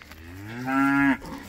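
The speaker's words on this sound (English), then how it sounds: "I can hear the other cows are wanting to get in here too." A single cow on a farm moos nearby, a rising, drawn-out low call that swells and ends sharply, with faint background ambience around it.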